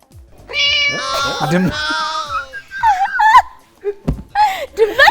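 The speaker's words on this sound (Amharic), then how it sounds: "ድመት" Several drawn-out cat meows, close and loud, mixed with short bursts of talking and laughter.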